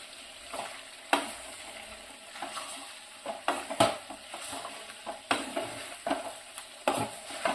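Pork pepper fry is stirred in a pan, a spoon scraping and knocking against the metal in irregular strokes over a low sizzle, close and moderately loud.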